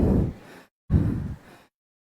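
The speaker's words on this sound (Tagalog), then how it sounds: "Hinihingal pa ako eh." A priest audibly out of breath during a Holy Thursday Mass, giving two heavy, close exhalations, each a loud puff that trails off, with a short pause between them.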